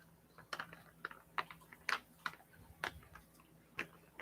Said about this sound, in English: Typing on my phone.